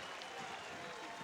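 Murmuring baseball crowd at a Frisco vs Corpus Christi minor-league game, stirring after a balk by pitcher Cabrera; a faint, steady distant wash of many voices with no clear individual words.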